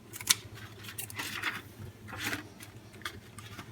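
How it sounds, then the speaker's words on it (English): A pair of scissors snipping through a paper burner cover template for a gas stove, several short crisp cuts in an irregular rhythm, close and fairly quiet, no talking. "good pair of scissors"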